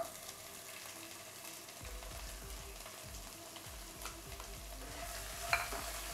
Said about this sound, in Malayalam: ഇനി നമുക്ക് അതിലേക്ക് 2 സവാള ചെറുതായി കട്ട് ചെയ്തത് ചേർത്ത് കൊടുക്കുക.